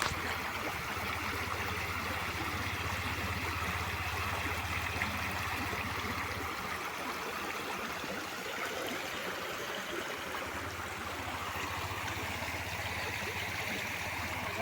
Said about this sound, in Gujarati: આમ ઉપર ડેમમાંથી પાણી આવે છે ને તો અહીંયા જો મસ્ત પાણી છે એ જાય છે